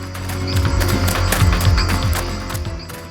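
Rhythmic hoof clip-clops sound close and fairly loud over a musical background, with a steady trotting pattern throughout.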